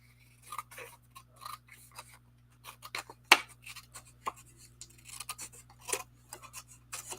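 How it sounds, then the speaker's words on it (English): Scissors clipping a decorative paper border for a card, a series of soft close snips and rustles at an irregular pace, with faint handling noise and no talking. "Don't ask me why I was clipping that with scissors."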